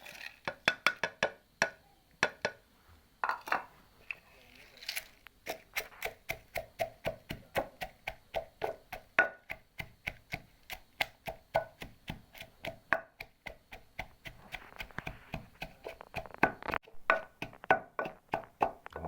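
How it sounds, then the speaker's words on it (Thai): Roasted chilies, kaffir lime leaves, galangal, lemongrass and garlic pounded in a mortar for a Thai fish chili paste: a long run of steady, close, dull thuds with short pauses, getting faster and denser toward the end. "ตำน้ำพริกปลาครับ"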